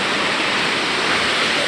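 Tuasan Falls on Camiguin Island pours in a steady, dense roar of falling water, loud and close, with no break and no voices over it.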